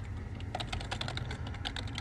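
Someone types on a Dell computer keyboard, a quick irregular patter of close key clicks running throughout with no talking.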